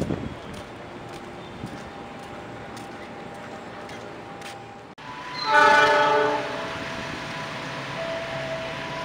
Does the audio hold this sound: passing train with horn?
yes